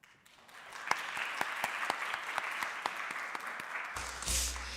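Applause fills an assembly chamber after a bill passes at a Nevada Girls State session, a steady room-wide clapping that builds quickly and keeps going for several seconds, ending in a brief noisy burst.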